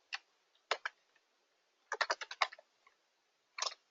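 Login details typed on a computer keyboard: a few scattered keystrokes, then a quick burst of clicks and a final short flurry, close and clear with no talk.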